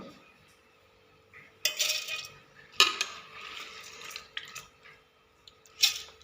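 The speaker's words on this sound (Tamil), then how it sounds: "மிக்சி ஜாரில் கொஞ்சம் கொஞ்சமாக எடுத்து போட்டுக்கிடுவோம்" Soaked rice and lentils for appam batter scooped into a mixer jar, with scattered clinks of a utensil against the metal jar and wet, sloppy spills, in short separate bursts.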